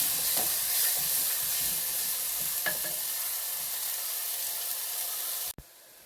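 Onions frying in a pan with salt, stirred so a steady close sizzle with scraping clicks runs throughout and cuts off abruptly near the end; no one speaks.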